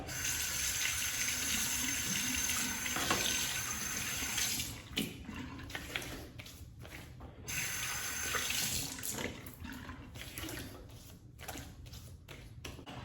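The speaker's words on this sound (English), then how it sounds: "Let's rinse off." Tap water running into a sink while rinsing off a freshly shaved face and mustache, a steady close gush that breaks off and resumes, with splashes and drips as hands move under the stream; no talk.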